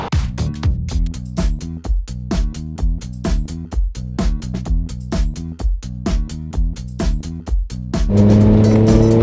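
A 1JZ-swapped Mercedes 190E driving, heard as a loud, repeating pulse of engine and road noise in regular surges, giving way to a steadier, denser roar at the end.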